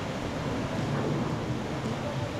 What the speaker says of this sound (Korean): 2단 폭포에 당도했습니다.